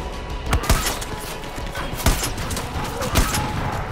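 Sniper rifle fire in Far Cry 5 as four sharp, loud shots at irregular spacing, each a broadband crack with a brief thump, over steady game ambience.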